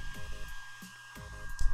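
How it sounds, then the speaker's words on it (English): A hair dryer whirs steadily at close range, heating a computer mouse to loosen adhesive, its motor hum pulsing slightly in strength with a few brief clicks and rustles. "I used a hairdryer to try to weaken the adhesive"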